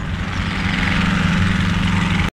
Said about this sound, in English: More of the helicopter.